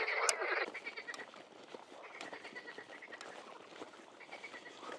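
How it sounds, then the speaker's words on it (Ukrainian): A chorus of frogs croaking loudly and continuously in reeds by the water, with one bleating-like call standing out at the start, many overlapping calls close by. "так гучно вони квакають"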